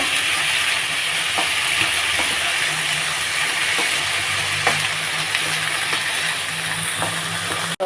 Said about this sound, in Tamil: இந்த வெங்காயம் பச்சை வாசனை போகிறபடி நீங்கள் இப்படி வதக்கிண்டே வரணும்